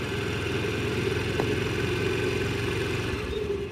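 A scooter engine hums low and steady while it is accelerated very slowly, fairly quiet and even throughout, with no one talking.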